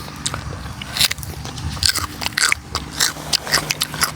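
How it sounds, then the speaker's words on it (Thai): Crunchy cucumber being bitten and chewed, with repeated crisp crunches in an uneven rhythm, close and fairly loud over a low steady hum. "แตงแบบกรอบกรอบ"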